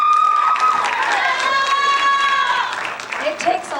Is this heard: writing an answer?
no